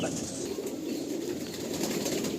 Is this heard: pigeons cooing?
yes